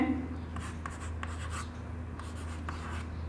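Chalk or marker scratching out a chemistry formula on a classroom board, a series of short rapid strokes and taps over steady low room hum, with no one talking.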